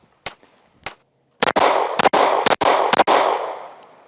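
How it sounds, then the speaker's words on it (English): An AF-1 Strike One 9mm pistol fires at an outdoor range: two sharp early shots, then a rapid string of about six loud cracks, each followed by a ringing echo tail that fades slowly. "Just a smooth shooting gun."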